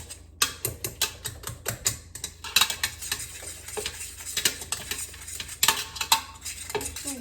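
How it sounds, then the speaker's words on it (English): Yam mixture mashed together in a pot, a repeated close scraping and clanking of a utensil against metal in an uneven rhythm, with no talking. "I put that straight into the pot. And I just mash that all together."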